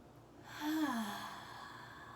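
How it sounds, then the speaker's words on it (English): A deep cleansing breath drawn in and let out during a yoga practice, a soft airy inhale swelling into a sighing exhale, close and quiet with no talk over it. "We'll start with 1 cleansing breath all together, taking a deep inhale here."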